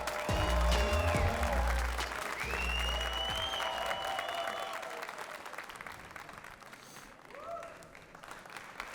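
Audience clapping as an Armenian comedy club show opens, heard alongside loud show music with a deep beat and sweeping tones, the applause continuing faintly after the music drops away.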